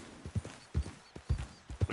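Horse hooves clip-clop at a steady walking rhythm in the Red Dead Redemption video game, close and distinct, with pairs of hoof strikes repeating over a faint background.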